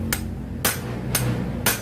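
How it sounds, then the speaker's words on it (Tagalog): A hammer strikes a stuck part on a Honda Wave 100 motorcycle during chain repair work. Four sharp metallic blows land at an even pace, loud and close, over a low mechanical hum. "Pinupukpok na ni King."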